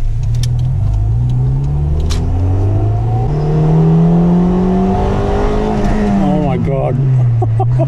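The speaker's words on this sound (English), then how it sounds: "the VTEC when it kicks in" Honda Integra Type R four-cylinder engine revving hard as VTEC engages, a loud rising whine climbing through the gears with brief drops between shifts, heard from inside the car with a voice nearby.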